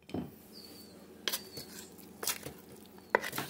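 Seasoning stirred into ribs in a crockpot, with a few sharp clinks and scrapes of a utensil against the pot over a quiet background, close by and with no one talking.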